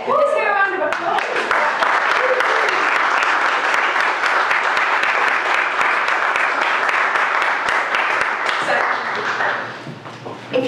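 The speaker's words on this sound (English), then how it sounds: "Let's hear a round of applause." Loud, continuous audience applause at a business playbook presentation, dense clapping sustained for about nine seconds before tapering off near the end, with voices faintly mixed in.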